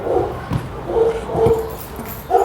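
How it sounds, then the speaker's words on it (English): A dog in a back room of a house barks and whimpers in short bursts, a few yips and bow-wows spaced about half a second apart, moderately loud and somewhat muffled by distance. "we have a dog in the back of the house here that's barking"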